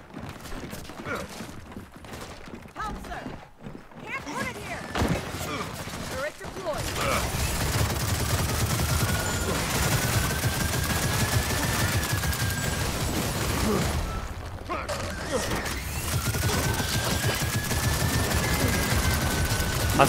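Turret gunfire in Gears of War 4 Horde mode on Xbox One, sustained rapid bursts of shooting that grow louder and denser partway through, with voices talking over the game action.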